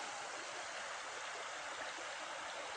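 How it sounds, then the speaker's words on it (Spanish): The Jolapa river in Jalisco rushes past in a steady, dense wash of flowing water, close and continuous throughout with no voices. "Este río que es una hermosura, el agua, qué barbaridad."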